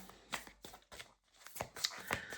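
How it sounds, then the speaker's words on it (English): A small deck of oracle cards is shuffled by hand, giving quick, close, crisp riffling flicks in an uneven rhythm, quiet and with no talking. "I've got the small version of this deck, which is much easier to shuffle"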